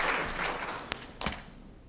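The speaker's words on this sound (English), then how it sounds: "You can clap." Audience clapping at an engineering hall of fame awards ceremony, a burst that fades out, with a couple of sharp isolated claps near the end.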